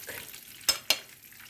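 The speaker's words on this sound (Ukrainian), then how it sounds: "Ось такі переверну. Смажиться далі." Pies filled with cheese and greens sizzle softly in a frying pan, with two sharp scraping clicks in quick succession as they are turned.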